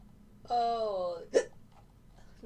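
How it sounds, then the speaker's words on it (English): A single hiccup breaks out abruptly, loud and close, right after a man's drawn-out voiced sound. "now I have hiccups."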